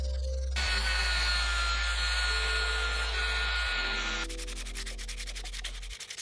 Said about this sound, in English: then went over it with sandpaper